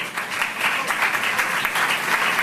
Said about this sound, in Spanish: merecéis el aplauso por haber participado en esto